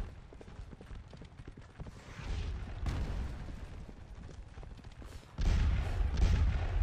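Distant artillery booms through a Napoleonic battle in Scourge of War Waterloo, with low thuds at irregular intervals and a louder swell near the end, under a busy battlefield clatter.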